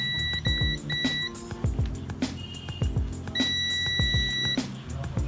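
A multimeter in buzzer mode probes the battery connector of a water-damaged Samsung S10 Plus, giving several short, clear beeps in bursts among handling clicks and taps.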